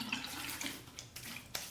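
A water tap runs steadily for a quick rinse of a razor while shaving, a soft continuous splash alone with no voices.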